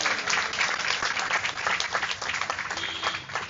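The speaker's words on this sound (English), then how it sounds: "Let's give him a big round of applause." Applause from a gathering at a Gaudiya Vaishnava talk, a steady wash of many hands clapping at fairly close range, dense and even throughout.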